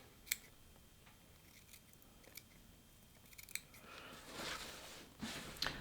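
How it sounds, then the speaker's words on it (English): Sharp scissors snip through lace applique on a prom gown, trimming around a hand-stitched motif: quiet, close, intermittent cuts with a few crisper snips and a denser run of cutting near the end. "And I'm just going to trim all the way around."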